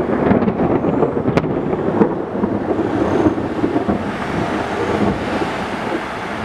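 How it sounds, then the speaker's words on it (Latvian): A deep, continuous rumble of thunder rolling on for several seconds, loud and close, with a few sharp crackles near the start. "tagad jūs tikai pērkonu dzirdēsiet droši vien"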